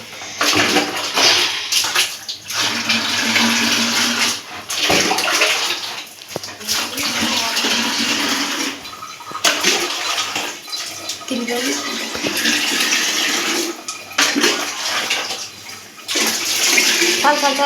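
Water pours and splashes steadily from a jug into an aquarium for most of the stretch, with short pauses between pours.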